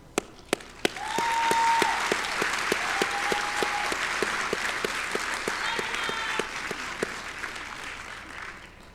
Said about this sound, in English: one final round of applause for our graduates